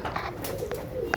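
Pigeons coo close by in a short, soft burst with a faint chirpy note near the end, no voices.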